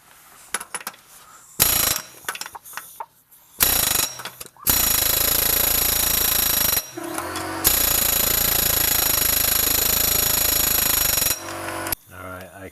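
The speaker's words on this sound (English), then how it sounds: "All right, take 2 with a 9X air hammer." A 9X air hammer pounds on a Toyota CV axle in a garage, firing in short bursts and then long sustained loud rattling runs with brief pauses between them.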